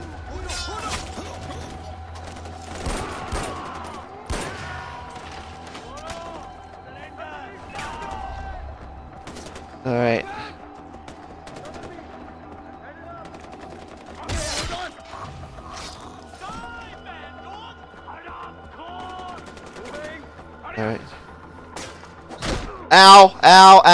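Far Cry 4 gunfire cracks out in scattered shots and short volleys over a quiet, humming game backdrop, with occasional crashing impacts and a loud burst of shots at the end.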